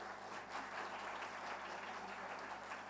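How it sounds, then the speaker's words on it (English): A crowd at an education conference, ThinkEdu 2024, claps in a continuous, even wash of applause, heard from a little distance and fairly quiet, with a low steady hum beneath. "You should clap."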